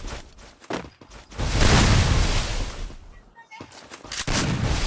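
Gunfire in the mobile game Free Fire: sharp single shots, then a dense, loud burst of rapid fire and a rumbling blast, followed by more scattered shots.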